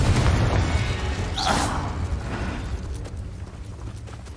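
A Confringo spell blast in Hogwarts Legacy, a single booming burst with a rushing whoosh near the middle, over a low rumbling game backdrop.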